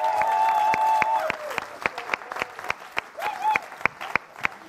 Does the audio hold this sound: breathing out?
no